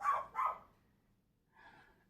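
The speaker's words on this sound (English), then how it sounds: "The dog heard a noise." A dog barks twice in quick succession, fairly close and clear, then gives a softer, shorter bark after a brief pause, with no other sound around it.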